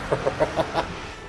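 Bird clucking in the Journey to Stories video game, five quick, evenly spaced clucks close and fairly loud, then a brief quiet tail.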